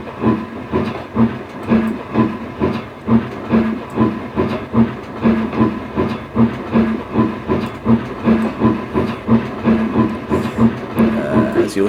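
A locomotive from the 1920s Flying Scotsman era rolls past in the Trainz railway simulator, with a steady chugging beat, hiss of steam and rhythmic clickety-clack of wheels, loud and close throughout.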